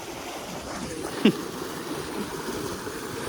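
A small stream near a hidden waterfall outside Badlapur rushes in a steady, faint wash of flowing water, with one brief knock partway through and no talking.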